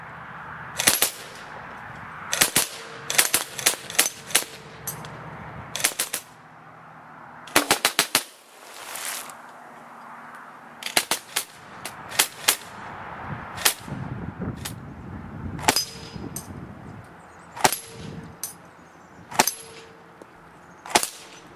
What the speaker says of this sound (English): I'm out shooting the new Evanix Speed.